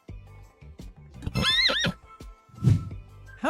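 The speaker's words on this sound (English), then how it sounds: "How do you say horse?" A horse whinnies as a quiz sound effect for the animal horse, a loud shrill neigh followed by a low snort, close and clear, with no talking over it.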